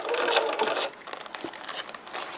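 A sewing machine runs steadily while stitching tissue paper into ruffles, then eases into lighter, uneven whirring and clicking as the paper is pushed and folded.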